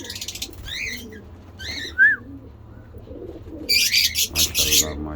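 Pigeons cooing and chirping inside a backyard aviary that also houses lovebirds, with several short calls close by over a low background rumble and a burst of busier, brighter chirping near the end.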